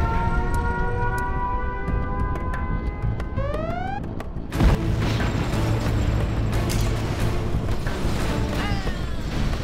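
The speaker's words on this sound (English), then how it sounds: "Our Scud Storm has been launched." A Scud Storm missile launch in Command & Conquer Generals Zero Hour, a loud rising whoosh and rumbling blast over busy battle noise, with a steady mix of explosions and mechanical clatter throughout.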